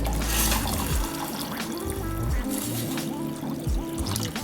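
Water pours steadily into a pan nearby, a continuous splashing trickle with some clatter, no talking.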